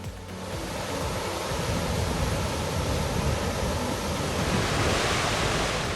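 A steady, loud roar of Skógafoss waterfall in Iceland, dropping 12 meters over a 30-meter width, fills the whole clip, broad and unbroken like heavy surf up close.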